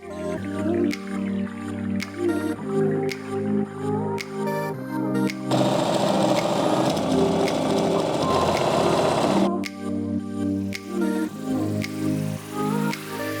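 A sewing machine stitches along the leg of thrifted jeans being restyled, running in loud rapid bursts with short pauses and one longer continuous stretch, close up, with no talk.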